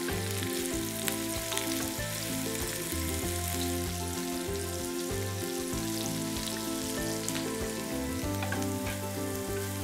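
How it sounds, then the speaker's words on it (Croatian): Onion frying in a pan, a steady close sizzle and crackle throughout, with faint scrapes as it is turned now and then. "Luk pržimo povremeno okrećući, toliko da malo omekša."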